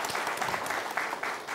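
An audience at a college event at STISIPOL Candradimuka in Palembang applauds in a dense, steady burst of clapping filling the whole short moment.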